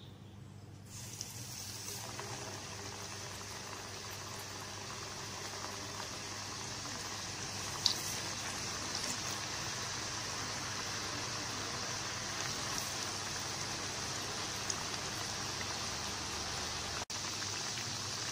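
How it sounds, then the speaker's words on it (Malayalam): Potato smileys frying in hot oil give a steady, soft hiss and bubbling crackle that runs evenly throughout, fairly faint, with no voices over it. "എണ്ണയിലിട്ട് ഫ്രൈ ചെയ്തെടുക്കാം"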